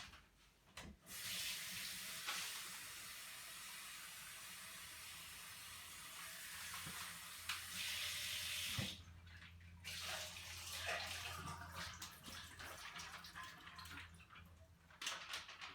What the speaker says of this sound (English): I really am just going to rinse them off with hot water and throw them in my soup